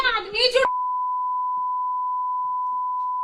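A steady pure-tone censor beep cuts off a man's Hindi speech and holds for about three seconds alone.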